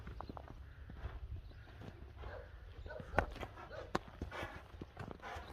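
A horse's hooves clip-clop at a walking pace on hard ground, faint and somewhat distant, with a couple of sharper knocks among steady background noise.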